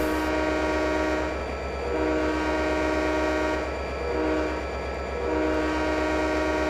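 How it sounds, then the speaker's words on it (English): A locomotive horn sounds in the Trainz 2010 simulator on the Saginaw Subdivision, holding steady multi-tone blasts that swell twice over a continuous rumbling engine drone, with no talking. "every engineer has their own little technique for how they blow the horn"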